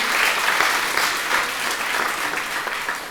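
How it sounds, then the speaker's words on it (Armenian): An audience at an Armenian folk music school concert applauds continuously, a dense, even wash of clapping that fills the whole moment without pause. "Եկեք ողջունենք և ծափահարենք։"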